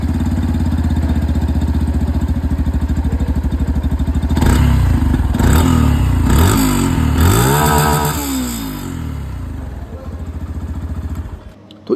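A 2025 Yamaha FZS Fi Hybrid motorcycle idles with a steady close exhaust thrum, then gets several sharp revs in quick succession before settling back and cutting off near the end.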